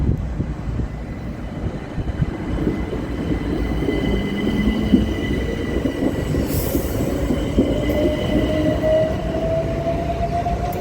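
Train pulling out of Swale station in Kent, a loud, close rumble of wheels on rail with a rising squeal and faint high whine that continues steadily for the whole stretch.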